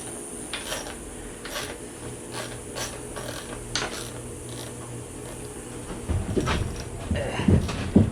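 A hand ratchet tightens bolts on a motorcycle near the front of its radiator in a garage, giving steady repeated clicks that grow louder and busier toward the end.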